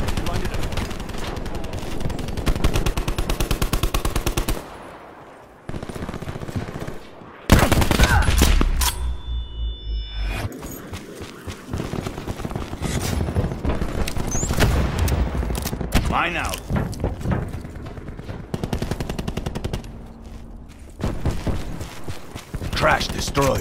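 Dense automatic gunfire fills a Black Ops 4 video game match, with rapid bursts, mechanical clicks and heavier bangs. A short quiet gap breaks the shooting, and voices come through over the din.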